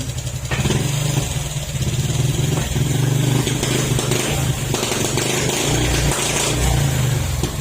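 A Honda Click 150 v2 scooter engine runs after an ECU repair, though it still has a spark plug problem, giving a steady, loud, close idle with a slight rough clatter and no talk.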